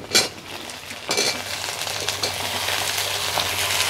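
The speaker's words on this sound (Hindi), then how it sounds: "आलू को भी थोड़ा सा भूनेंगे हम थोड़ी देर तक" Chopped potatoes frying with onions in a pan on a village kitchen stove, a steady close sizzle with a couple of louder stirring scrapes near the start.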